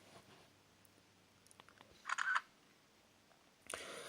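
A Sony Ericsson Naite J105i phone camera takes a photo, giving one short, crisp shutter-like click, close and clear in near-silence, followed by a brief burst of faint handling noise.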